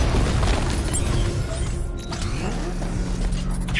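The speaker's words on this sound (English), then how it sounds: "I can use the power winch to trigger a controlled explosion." A controlled bomb explosion set off with a power winch in a Batman video game, heard as a loud, sustained rumbling boom with mechanical creaks and grinding layered throughout, no voices.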